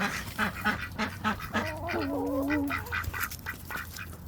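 Ducks pass close by, quacking in a rapid, irregular series of short calls, with a brief honking, goose-like cry in the middle, moderately quiet and without talk.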